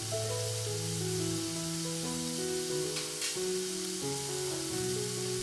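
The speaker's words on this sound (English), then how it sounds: "I'm going to leave the kadai open and fry it on a higher flame now" Onions fry in an open kadai over a high flame, producing a steady, even sizzle beneath a constant layer of melodic background music.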